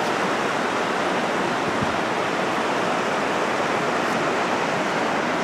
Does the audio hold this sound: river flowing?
yes